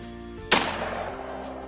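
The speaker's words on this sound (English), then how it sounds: "Lexi Cooney, Remington 870, tactical." A Remington 870 tactical shotgun fires a single loud, sharp blast at close range, followed by a brief decaying echo as it is shot outdoors.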